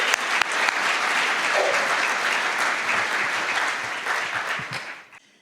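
Sustained, dense applause from a storytelling audience welcoming Helen Jucevic to the stage, a steady wash of clapping hands that holds for several seconds before tapering off to silence.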